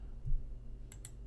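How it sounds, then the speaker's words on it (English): Computer mouse clicking while picking a template on a desktop, two quick faint clicks close together over low room hum. "Click on the template that you want to use."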